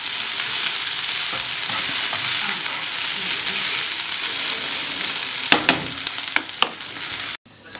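Onions for an onion quiche fry gently in a pan with a steady, broad sizzle that carries on throughout. Near the end come a few sharp clinks of stirring before the sound cuts off abruptly.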